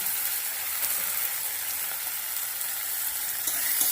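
Tomato pieces frying with spices, ginger paste and green chilli paste in hot oil, giving a steady, close hiss and sizzle that holds evenly throughout with no talking.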